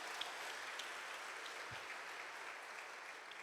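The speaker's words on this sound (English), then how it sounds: "we thank them with an applause" An audience at a company event gives sustained applause, a soft, even patter of many hands heard from a distance, faint and steady without clear voices.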